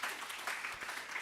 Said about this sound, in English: So round of applause to all the volunteers.